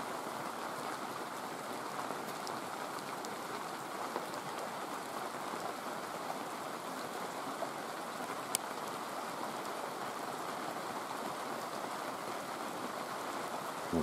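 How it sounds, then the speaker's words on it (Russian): Steady heavy rain hisses continuously at a taiga cabin by a lake, a dense even patter with no pauses, close and fairly loud throughout. "Пошел конкретный дождь"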